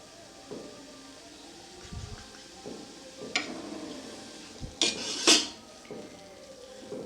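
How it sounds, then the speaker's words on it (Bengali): Grated carrots for gajar halwa stirred in a pan while the moisture cooks off, heard as sparse, quiet scrapes and a few sharp clanks of the utensil against metal over a faint background. "এটা আমি এখনও কিছুক্ষণ নাড়াচাড়া করে ভাজতে থাকবো যতক্ষণ না জলটা শুকিয়ে যাচ্ছে।"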